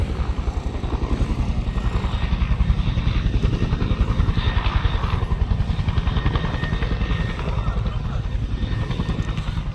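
Helicopter rotors thump in a fast, steady rhythm with a droning engine, fairly close and continuous throughout; two helicopters over Palaly, Jaffna.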